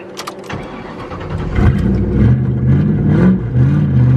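A junkyard Ford Mustang engine cranks and catches while left in fifth gear, settling into a loud, rough, steady running drone with an uneven low rumble.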